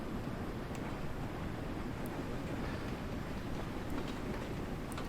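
A freight train runs at night from Mold Junction to Edge Hill in Train Sim World 2, a steady rolling rumble of wheels on rails with faint clicks of track joints throughout, no voices.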